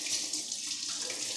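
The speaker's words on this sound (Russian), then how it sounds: "Мою руки." Hands are washed in a kitchen sink under a running tap, a continuous hissing splash of water with small shifts as the hands move through the stream, steady and fairly close.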